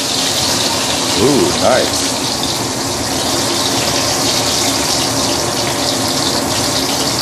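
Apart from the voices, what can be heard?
pomfret fish sizzling while deep frying in oil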